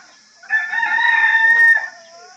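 A rooster crows once, loud and close, a long drawn-out call lasting over a second against a quiet morning background in rural Konkan.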